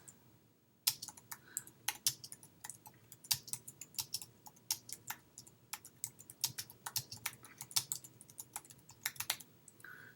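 Typing on a computer keyboard while entering a subhead for a page layout, rapid irregular key clicks in bursts with brief pauses, close and clear with no talk.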